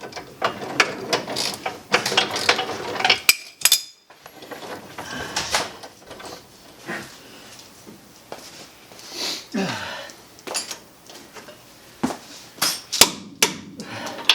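A torque wrench ratchets and clicks while tightening front suspension parts on a 2003 Ford Ranger, uneven bursts of close metallic clicking and clanks with pauses, interspersed with handling noises, no clear talking.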